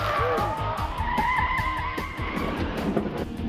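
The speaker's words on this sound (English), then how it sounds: "Till the time comes to pull the pin on those twin grenades" Cars in a chase skid and squeal their tires over continuous loud engine roar, with sliding screeches rising and falling throughout.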